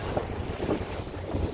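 Strong wind buffets a boat out on the water, a rough, gusty roar with heavy low-end microphone rumble, continuous and loud for a brief moment, with no voices.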